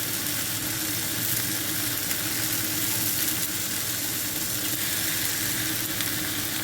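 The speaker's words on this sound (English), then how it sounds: "turn the hash brown over." A hash brown sizzles steadily in a frying pan alongside mushrooms and tomato for a one-pan cooked breakfast, a dense, even crackle with a faint low hum beneath and no talking.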